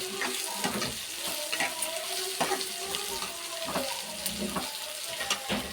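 Onions fry in a pan with a soft, crackling sizzle and scattered stirring clicks, faint and fairly close, with no talk heard.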